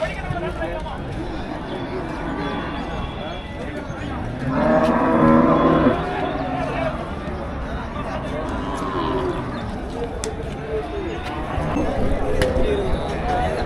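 Cattle low and moo at a busy livestock market in Melapalayam, one strong moo standing out mid-clip over a constant babble of people talking nearby.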